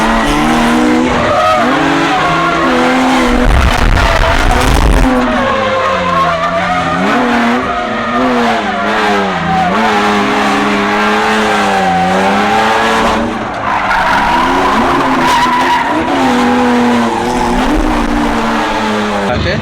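A drift car slides around a track at a car show, its loud engine and tires squealing continuously in wavering, wailing tones as it skids close by, with the squeal rising and falling through the slides.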